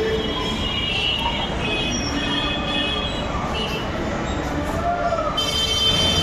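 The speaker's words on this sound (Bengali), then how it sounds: "তো আমার ট্রেন চলে এসছে" A train pulls into a station on a winter day, wheels squealing in high sustained tones over a steady rumble, fairly loud and continuous with no talk.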